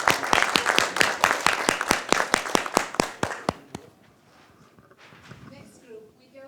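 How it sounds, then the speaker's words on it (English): A small workshop group claps in a brisk, rhythmic burst of distinct, closely spaced claps lasting about four seconds. The clapping stops abruptly and quiet room sound and soft murmuring follow. "Let's give them a round of applause"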